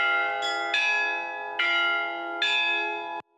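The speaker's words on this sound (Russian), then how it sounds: "Колокольный звон впервые за более чем 300-летнюю историю деревни разлился по Новоишинским улицам" Bells of a newly built St. George church in a Chuvash village ring loudly and close, with four bright metallic strikes spaced under a second apart, each tone ringing on and overlapping the next, then stopping abruptly.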